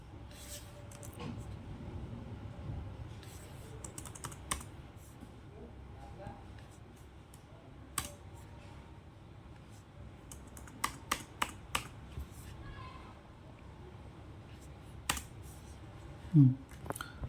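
Keystrokes on a computer keyboard while JavaScript code is being deleted come in scattered bursts of sharp clicks, with a cluster of quicker taps near the middle, over a quiet low background and faint talk.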